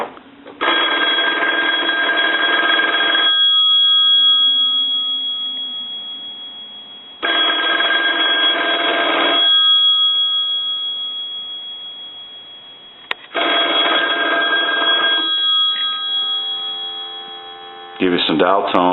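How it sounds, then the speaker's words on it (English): A 3-slot payphone bell rings in three long bursts separated by pauses of silence, loud and close with a steady tone. A short click and the start of another tone follow at the end. "We'll go ahead and ring the phone one more time."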